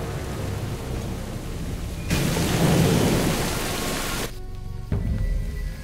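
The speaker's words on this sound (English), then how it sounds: "At least, the rain's easing up." Rain and thunder in the Jurassic Park video game: steady rainfall under a low rumble, swelling into a loud downpour burst midway before cutting back to quieter rain.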